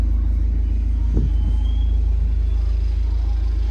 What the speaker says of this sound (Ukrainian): можна зробити гучність вихлопу тихіше та гучніше